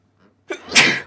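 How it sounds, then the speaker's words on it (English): One sharp human sneeze, close and loud, with a short inhaled catch followed by a forceful burst. "I'm really sneezing a lot."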